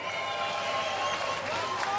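Stadium crowd at a beach volleyball World Championship match applauding the teams, a dense steady wash of clapping and cheering under an announcer's voice.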